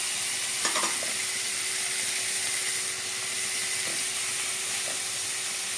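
Onion, capsicum and green chili sauté for pav bhaji, a continuous bright sizzle in the hot pan with a few quick scraping stirs early on and near the middle, no one speaking.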